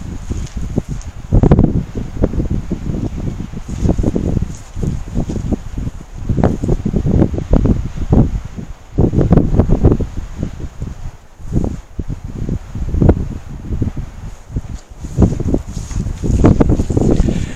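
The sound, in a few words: strong wind blowing at a wind farm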